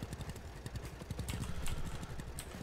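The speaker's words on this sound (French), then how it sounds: "le tracteur il pétouille" An old tractor engine in the farming game Farmer's Dynasty sputters and putters with a rough, uneven low thumping rhythm, steady and moderately quiet throughout.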